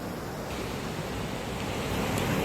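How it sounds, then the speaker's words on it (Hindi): Waterfall on a mountain near a picnic and trekking spot, a steady dense roar of rushing water filling the whole clip, close and constant with no talk. "ये है झरना। ये झरना है"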